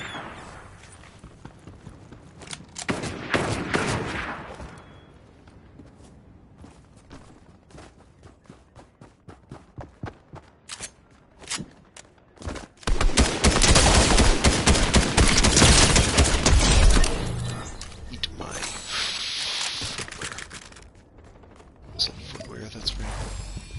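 Enemy gunfire in Fortnite, with bursts of rapid shots and heavy volleys rising loudly in the middle stretch, surrounded by quieter game sounds and scattered individual shots.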